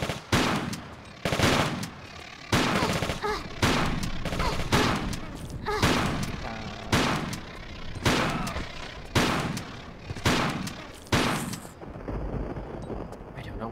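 Gunfire in Tomb Raider IV The Last Revelation, a long series of loud, regularly spaced heavy shots with booming tails that repeat about every second, close and dominant.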